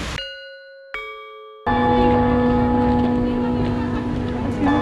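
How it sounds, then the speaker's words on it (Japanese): Two bell-like chimes ring out from a Christmas tree at a Chiba illumination display, lingering tones, then a busy, loud ambience full of sustained tones and crowd noise takes over. "なんかツリーから鐘の音がしてる"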